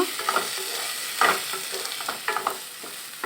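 Onions and turmeric sizzle steadily in a pan for chole curry while a spoon stirs them, with a continuous frying hiss broken by several scraping, clattering stir strokes.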